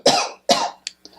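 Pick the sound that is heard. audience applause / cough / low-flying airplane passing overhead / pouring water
cough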